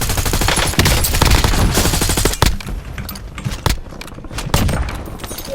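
Call of Duty Warzone gunfire: rapid automatic bursts crackle loudly at first, then thin into scattered single shots and short volleys with brief gaps between them.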